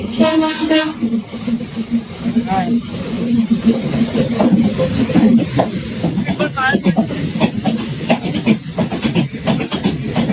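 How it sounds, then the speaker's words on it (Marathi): An express train rumbles into a station with a horn toot at the start, while several people talk over the rolling noise and a faint high whine. "ट्रेन आली."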